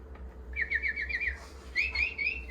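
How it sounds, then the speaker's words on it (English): A recorded bird call plays close by as a series of rapid, bright whistled chirps in two bursts, with a faint low hum underneath. "每种鸟都有不一样的声音"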